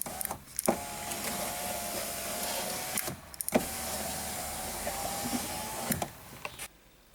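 Power windows on a 2005 Audi A4 Cabriolet running, a steady electric motor whine that plays for a few seconds at a time, broken by short clunks and pauses, then stops with a final thunk.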